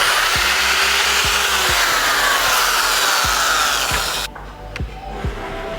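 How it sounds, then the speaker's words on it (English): Drill-mounted sander smoothing the channel of a wooden alaia surfboard, a steady high whine with rhythmic low thumps as the pad rotates, then the tool spins down abruptly near the end, leaving quieter knocks. "I've got a sander here on the drill, and I'm gonna smooth out the gully that I made"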